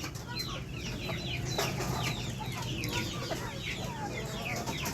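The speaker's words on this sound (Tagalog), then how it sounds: "So dito sa ating mga kulungan ng manok." Rhode Island Red breeder chickens cluck throughout inside their coop on a farm, many birds close by in a steady overlapping chorus over a constant low background.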